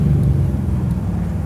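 A Pro Street 1967 Chevy Nova's engine roars in a hard pull, a loud, close, deep rumbling drone that stays steady and heavy through the short stretch, with no talking.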